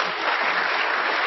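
A packed Crucible snooker crowd applauds a player's introduction, dense and sustained clapping filling the space without pause.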